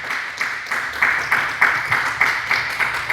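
Church congregation clapping in unison to a steady, rhythmic beat, roughly three claps every two seconds, moderately loud with a roomy echo.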